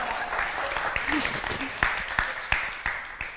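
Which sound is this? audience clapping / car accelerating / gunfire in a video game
audience clapping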